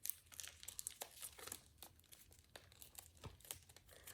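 Crisp crinkling and crackling of paper being swivel folded and creased into an origami F-35A Lightning II jet, a run of close, quiet rustles and sharp crinkles without speech.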